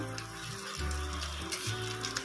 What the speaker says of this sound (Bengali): আস্তে আস্তে করে এটাকে ভাজতে হবে